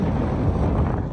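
Gusty outdoor wind buffets the microphone on a breezy, overcast day at an FPV flying field, a steady close roar with no talk.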